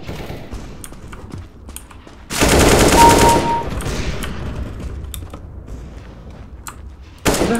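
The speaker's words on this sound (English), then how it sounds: "Who the hell was shooting me?" Gunfire in a CS:GO deathmatch on Dust II, a loud, sustained rattle of rapid automatic shots lasting over a second, trailing off, with scattered single shots and another loud burst at the end.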